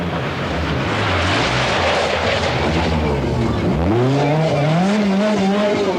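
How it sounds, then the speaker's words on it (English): Peugeot rally car racing flat out on a special stage of the 1000 Lakes Rally in Finland, its loud engine note rising and falling through gear changes, then climbing sharply as it passes close by. "And Toivonen's gaining on the Peugeot"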